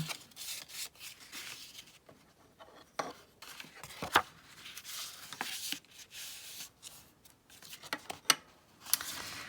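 Paper card folded along a score line for a pop-up card, soft close rubbing and creasing scrapes with a few sharper crinkles, quiet and continuous without speech.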